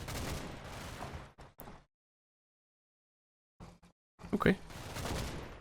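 Gunfire from an MG42 machine gun and a Bren carrier in the WWII strategy game Combat Mission, set in Normandy, coming in short bursts around a silent gap, and someone briefly speaks.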